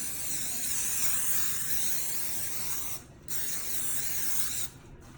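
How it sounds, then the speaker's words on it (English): Long hissing bursts of non-stick cooking spray, a steady close spray that stops briefly twice before resuming. "What I also do is I spray my little spoon"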